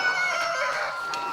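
A confused rooster, newly moved into a coop, lets out a short throaty clucking call up close, rough and slightly drawn out, with no talk over it.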